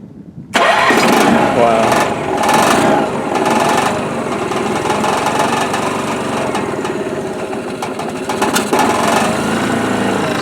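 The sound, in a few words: Honda four-wheeler ATV engine starting and running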